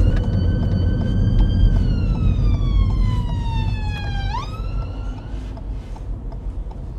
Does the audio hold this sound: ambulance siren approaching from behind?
yes